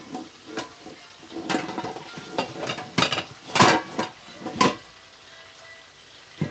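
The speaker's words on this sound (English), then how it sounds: "I'm going to grab another bowl." Kitchen clatter as a bowl and a mug are grabbed, with several hard ceramic knocks and clinks at irregular intervals amid quieter handling.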